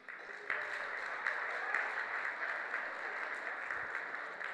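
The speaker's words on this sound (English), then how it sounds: "I'd like to give a round of applause to Phuong's Uncle Brian" Wedding guests applaud steadily for Phuong's Uncle Brian, a dense, even wash of clapping that holds at a constant level throughout with no voices over it.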